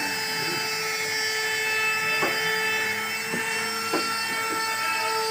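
A power drill drives screws into a Kendhok A Pro One speaker box, a steady whine running throughout with several short bursts of screwing, loud and close.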